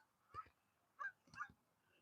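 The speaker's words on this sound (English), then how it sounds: "I can hear geese coming by." Geese honk in three distinct bursts as a flock passes overhead, the calls moderately faint and spaced out over about two seconds, with no talking.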